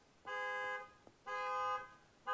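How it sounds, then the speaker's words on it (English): An alarm goes off outside, sounding as steady, tonal electronic blasts of about half a second each in a repeating on-off pattern, fairly loud and alone. "there's an alarm going off right outside"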